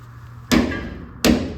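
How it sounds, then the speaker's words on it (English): Two sharp, loud hammer blows drive screws close by, spaced under a second apart, each ringing briefly before fading. "Probably gonna have to hammer those screws in."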